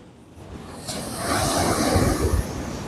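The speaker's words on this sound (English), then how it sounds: "Good waves as well today." Ocean waves roll in and break on the shore, swelling from a soft hiss into a loud, broad rushing wash, with some wind buffeting the microphone.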